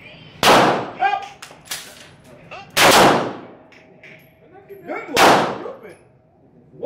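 Three loud, sharp .357 Magnum handgun shots fired outdoors at a shooting range, spaced a couple of seconds apart, each with a brief ringing tail, while people talk quietly between them.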